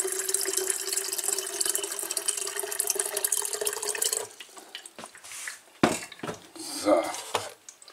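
Tap water runs steadily into a container for brewing coffee in a home kitchen, a continuous stream that stops midway, followed by clinks of dishes and faint handling noises.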